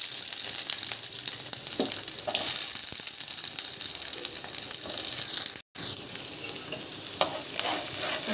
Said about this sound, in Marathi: तेल टाकलं, ते तापलेलं आहे, आता कांदा टाकूया।